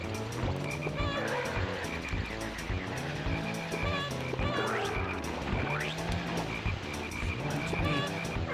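Frogs croaking in the Diddy Kong Racing video game, a steady chorus of repeated ribbiting croaks over busy game music and engine hum, continuous and fairly loud throughout.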